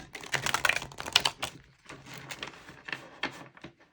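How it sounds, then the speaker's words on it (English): Tarot cards riffle and flutter in quick bursts, pause, then shuffle again in shorter crisp bursts, close and fairly soft. "I'm going to real quick here shuffle these cards."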